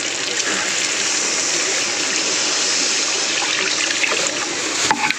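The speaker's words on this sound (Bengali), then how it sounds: "তো আমি এখানে জলটা এবারে দিয়ে দেবো।" Water pours steadily into a pan of cooked-down fish curry masala made with snakehead fish, a continuous close splashing hiss that ends with a brief clatter.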